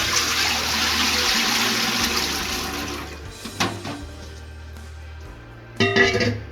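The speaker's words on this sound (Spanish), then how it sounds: "ya tenemos los spetzels listos, pero no queremos que absorban agua, entonces los vamos a colar" Cooked spaetzle being poured into a strainer, with water draining and splashing in a steady rush that tapers off, then a brief louder splash near the end; no talking.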